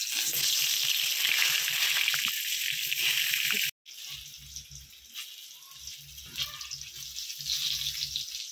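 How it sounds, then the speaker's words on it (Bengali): Brinjal slices fried in oil, a bright steady sizzle that cuts out briefly, then returns with lower bubbling and softer crackle, close and without speech. "এবার তেলেতে বেগুনটা দিয়ে দিচ্ছি।"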